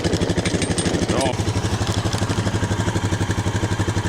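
A Honda Foreman ATV engine runs at a steady, fast-pulsing idle, close and loud, with a brief clatter partway through.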